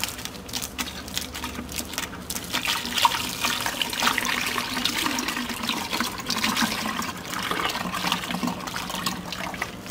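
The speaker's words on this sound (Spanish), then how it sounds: "poco a poco le vamos a ir incorporando el agua para irla enjuagando" Water poured gradually over oats to rinse them, a continuous close splashing and trickling flow with sloshing movements throughout, no talking.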